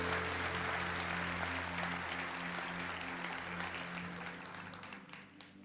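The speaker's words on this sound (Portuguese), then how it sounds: "Pode aplaudir" A church congregation claps together during a sermon, a broad wash of applause with a low hum of music or amplification beneath it, gradually thinning toward the end.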